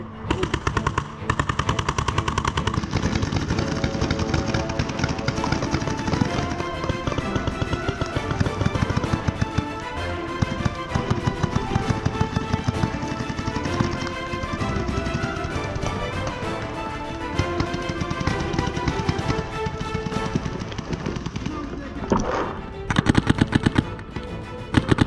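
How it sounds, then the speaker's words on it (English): Rapid bursts of popping paintball gun shots crackle almost nonstop during an outdoor game, near and loud, with continuous rattling fire layered throughout. "We got somebody shooting from our left somewhere too, Bert."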